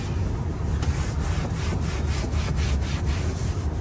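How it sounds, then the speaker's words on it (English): A rag with a little lacquer thinner rubbed over a worn leather Tesla Model X car seat, giving a steady close scratchy swishing in quick repeated strokes. "I took my same rag and I put a little bit of lacquer thinner on it. I'm just going to lightly rub over"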